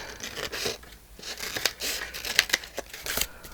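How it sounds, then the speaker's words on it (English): Scissors snip through a damp-glued recycled paper envelope in a crafting session, giving short crisp cuts and crinkling paper rustles close up, fairly quiet with no talk. "just use my scissors"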